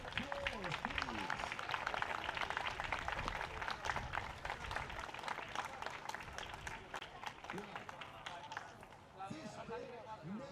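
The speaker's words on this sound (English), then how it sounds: "give your families a round of applause, please." At a Rotax Max Challenge kart race, a crowd gives a long, loud burst of applause for the racers' families. The clapping is dense and continuous, with voices mixed in, and it fades toward the end.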